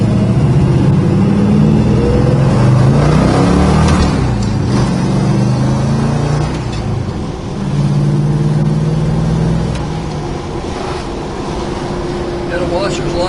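A 1969 Plymouth Road Runner with a 440 Mopar V8 rumbles steadily while driving in traffic, a loud, continuous low engine drone heard from inside the car, with someone talking over it.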